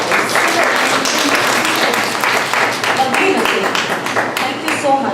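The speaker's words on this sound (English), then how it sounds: "A big round of applause once again for each one of us." Applause from the audience at a primary school teachers' training session, a steady, dense round of clapping that fills the room at an even level, with some voices mixed in.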